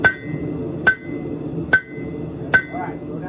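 Four evenly spaced ringing hammer blows strike horseshoe steel on an anvil, each a bright metallic clang with a short ring, close and loud, with a faint low hum between strikes.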